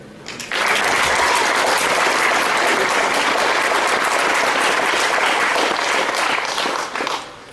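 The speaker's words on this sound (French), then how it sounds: "Voilà, on peut l'applaudir." Loud, sustained applause from a crowd gathered for an anniversary celebration of a mutual-aid group. Dense clapping starts abruptly, holds evenly for about seven seconds, then tapers off.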